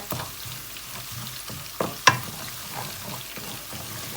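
Red curry paste sizzles and fries in a pan, a steady crackle broken by a few scraping stir strokes and one sharp clink, fairly close with no voices.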